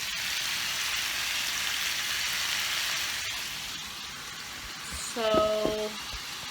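Food sizzles steadily in a pan with a constant crackling hiss, and a person starts talking briefly near the end.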